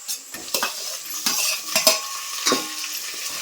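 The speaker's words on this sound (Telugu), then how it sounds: "తర్వాత టమాటాలు వేసుకోవాలి" Soft sizzling of tomatoes frying with browned onions in a pan, with repeated scraping strokes of a spoon or spatula stirring, close and fairly loud, no voices.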